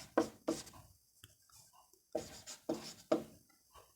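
Pen scratching across paper in a notebook during a maths lesson, sounding as short, close strokes in quick pairs and clusters separated by brief quiet gaps, with no talk.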